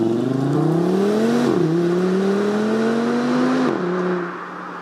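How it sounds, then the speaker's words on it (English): An Audi TT RS with a dual-clutch gearbox sends out a loud, steady exhaust drone that climbs in pitch, breaks twice at gear shifts and climbs again before easing off at the end. "Let me find you guys a little exhaust clip."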